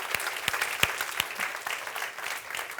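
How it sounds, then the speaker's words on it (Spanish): A church congregation breaks into applause, with a brisk patter of hand claps in which individual sharp claps stand out clearly. "Dele un aplauso a Dios por eso"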